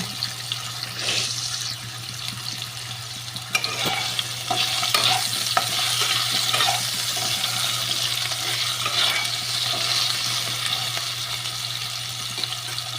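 Potatoes fry in a pan with a steady sizzle while a utensil stirs them, giving repeated scraping knocks and clinks over a constant low hum, close and continuous for about thirteen seconds.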